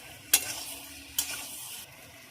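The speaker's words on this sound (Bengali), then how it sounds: "যতক্ষণ মশলা কষানো না হবে তো ভালো করে নাড়বো।" Masala with green peas for aloo dum frying in a pan, a steady sizzle with two sharp spatula scrapes against the metal, close and clear, no voices.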